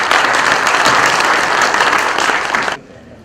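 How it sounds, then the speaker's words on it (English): An audience at a geological technical session applauds a professor, with steady, loud clapping from a full room for nearly three seconds before it cuts off abruptly into near silence. "So let's give a big applause to Professor."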